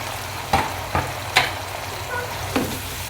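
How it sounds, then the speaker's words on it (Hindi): Grated frozen tomato cooked down to a paste and sizzles steadily in a pan for kadhi pakora, while a spoon scrapes through it in a few distinct strokes over the continuous frying hiss. "तो ये देखिए बस माशाल्लाह से भुनाई मैंने कर लिया टमाटर के साथ"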